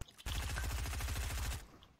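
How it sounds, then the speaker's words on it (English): Rapid SMG burst in Fortnite, a fast stream of sharp rattling shots fired continuously for over a second at close range, then abruptly stopping. "can you stop the SMG?"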